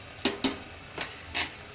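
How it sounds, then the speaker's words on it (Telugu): Ginger garlic paste is stirred in a pan for drumstick biryani, a faint sizzle under four sharp scraping clinks of a spoon against the pan, close and sparse with no talking. "కొంచెం అల్లం వెల్లిగడ్డ వేసుకున్నాము."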